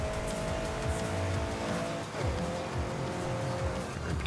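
A race car braking hard in Forza Horizon 5, with steady engine drone, tire squeal and skidding on the road. A lower engine note cuts in midway through the continuous loud mix.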